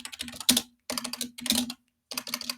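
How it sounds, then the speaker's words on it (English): Keys clatter on a computer keyboard in short, quick bursts of typing with brief silent pauses between them, heard up close and clear. "I cannot type this morning."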